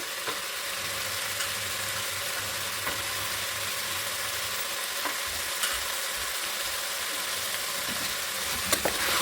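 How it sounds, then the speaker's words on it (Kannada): Capsicum, beans, carrot and potato fry together in a pan, a steady soft sizzle with occasional stirring clicks, moderately quiet and close, no speech. "ಚೆನ್ನಾಗಿ ಫ್ರೈ ಮಾಡ್ಕೊಳ್ಳೋಣ"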